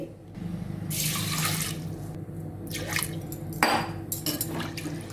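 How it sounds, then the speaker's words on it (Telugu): Toor dal being rinsed in a sink under a running tap for a Rayalaseema village-style raw mango dal, with steady close water flow, splashing and a few drips throughout. "ఒక కప్పు కందిపప్పుని ఇందులో వేసేసుకొని ఒకసారి నీట్గా వాష్ చేసేసుకోవాలి"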